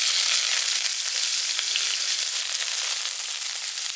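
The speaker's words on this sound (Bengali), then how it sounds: "এবার এই পেঁয়াজ কুচোনোটা দিয়ে দিচ্ছি" Chopped onions frying in hot white oil in a kadai, a loud, steady hiss and crackle, close and continuous without pause.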